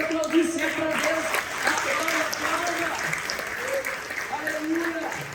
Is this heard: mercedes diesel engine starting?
no